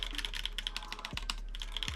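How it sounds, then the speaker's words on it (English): Typing on a NEO Keys G88 Palette hotswap keyboard fitted with Tecsee Cardinal switches, a fast run of close, crisp keystrokes with an occasional heavier bottom-out, no voices. "as I type, you can see the board flex"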